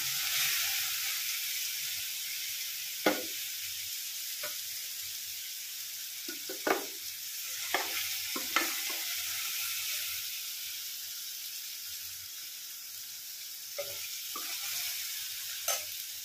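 Mushrooms frying in about 50 grams of hot oil, a quiet, steady hiss with occasional soft pops and stirring scrapes.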